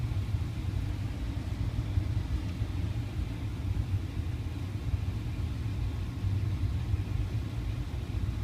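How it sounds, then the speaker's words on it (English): A billboard truck's engine idles steadily nearby, a constant low rumble with a faint mechanical hum and no change in revs throughout, with no speech. "The truck is actually running right now. It runs very strong."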